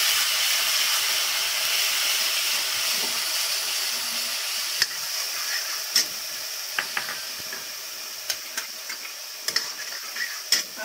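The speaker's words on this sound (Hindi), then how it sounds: "अब हम इसमें डालेंगे अपना प्याज का पेस्ट और प्याज की तरह से भून लेंगे।" Onion paste frying in medium-hot oil in a kadhai, a steady sizzling hiss with scattered small pops and crackles, fairly close and alone.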